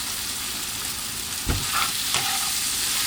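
Green beans stir-frying in a hot pan with chili flakes, a loud steady sizzle broken by a couple of scraping stirs of a spatula partway through.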